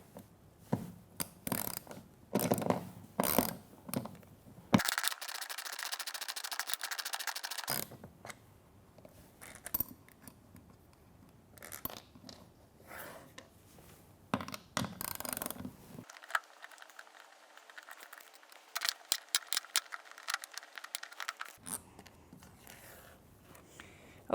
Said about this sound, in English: I'm going to use a socket for the sake of speed, and I'm going to take off this bracket and by loosening these bolts here